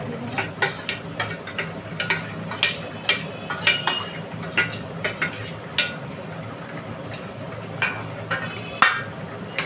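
Fish curry stirred in a pot, a close run of rhythmic metallic clinks and scrapes of a spoon against the pot's sides, steady and fairly loud, without talking.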